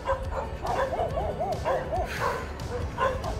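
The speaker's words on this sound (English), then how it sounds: "All these soy dogs have like taken over this playground over here." Stray soi dogs at a playground bark and yip in a rapid, repeated string, fairly close, over a busy outdoor background with some voices.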